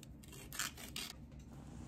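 Scissors snip open a small packet of turmeric powder in a quiet kitchen, giving a couple of brief close crisp cuts with light rustling and no voices.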